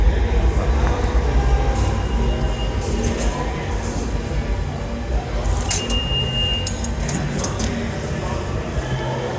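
A New York City subway train rumbles steadily at an underground station platform, with a brief high metallic squeal partway through and clattering over the continuous roar.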